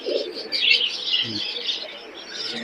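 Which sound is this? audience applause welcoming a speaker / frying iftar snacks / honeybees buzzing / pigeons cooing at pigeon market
pigeons cooing at pigeon market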